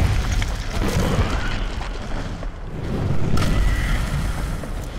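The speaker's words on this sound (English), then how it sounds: "These are the rocks I'm supposed to destroy." Rocks crumbling and breaking apart in the platformer Ori and the Blind Forest, a loud, continuous rumble of booming destruction with no distinct separate impacts, swelling again near the end.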